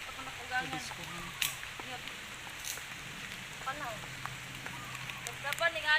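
Steady rain pattering on surfaces outdoors, a constant close hiss with scattered drop ticks, while people talk and call out over it.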